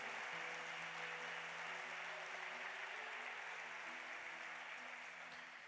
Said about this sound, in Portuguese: Se você crê, dê mais uma salva de palmas a ele,